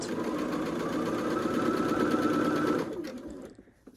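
A sewing machine stitches gold and white quilt pieces in a steady, close, continuous run that slows and stops near the end, with no talking.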